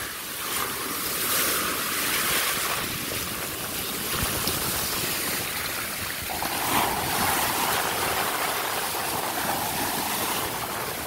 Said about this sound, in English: Man, these waves are bad.